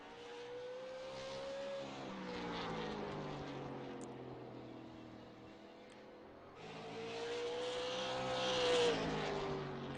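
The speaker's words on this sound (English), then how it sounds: "as the 9 car comes around, and I believe he's starting his hot lap there" A super late model race car on a qualifying hot lap around an oval, its engine whining loud and high as it sweeps past, fading, then roaring back strongly on the next pass.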